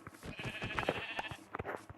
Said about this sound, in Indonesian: nah ini ada domba nih teman-teman.